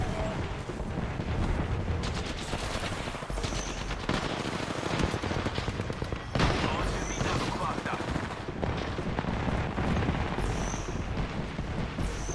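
Gunfire and explosions in a first-person shooter match, a frag grenade among them, with dense overlapping bursts and rattling automatic fire running throughout at a steady, loud level.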